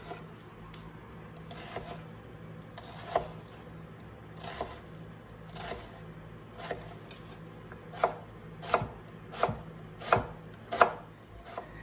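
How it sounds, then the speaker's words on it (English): A knife chops an onion on a cutting board in a steady series of crisp, close knocks that grow more regular and pronounced toward the end, with no voices. "We're going to begin by chopping our onion."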